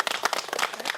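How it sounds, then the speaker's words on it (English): Crowd clapping with dense, uneven hand claps, fairly close and moderately loud, no talking over it. "Give her a round of applause."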